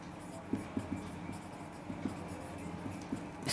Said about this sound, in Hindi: और एक और लिख लेते हैं इसमें